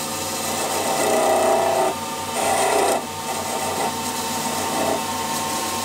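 A woodturning tool rounds over a bead on the tip of a spinning wooden sword, giving a steady raspy scraping with louder bursts of cutting at intervals.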